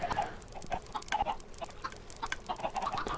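Chickens in the Minecraft video game cluck in quick, overlapping bursts from a crowded flock, a steady busy chatter at moderate volume with no voices over it.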